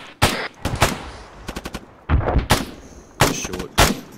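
Gunfire in ArmA 3, sharp close bursts of automatic fire mixed with single shots and short rapid volleys, loud and separated by brief pauses.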